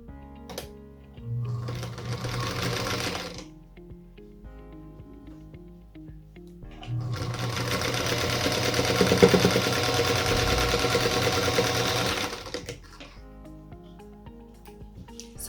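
A sewing machine sews pieces of a pink-centred star quilt block together in two close, steady stitching runs. The first is short, and a longer run of about five seconds follows after a quiet gap, with no voice.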